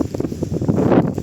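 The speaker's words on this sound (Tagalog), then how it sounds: "Mahangin lang." Wind gusting across an open hillside farm lot in Mabitac, Laguna, buffeting the microphone with a loud, steady rumbling roar in uneven pulses.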